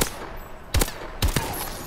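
XMG light machine gun firing in Call of Duty Advanced Warfare: two short, loud bursts about half a second apart, standing alone against a low background hum.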